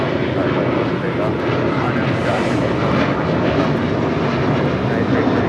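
An airliner on takeoff from runway 25 right at Los Angeles International Airport roars steadily throughout, a loud, broad engine rumble that holds level and does not fade.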